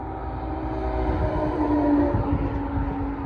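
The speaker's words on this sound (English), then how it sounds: "that truck sounded like a train horn for a second." A loud, low, sustained vehicle horn blares steadily over deep engine rumble, holding one droning chord for several seconds.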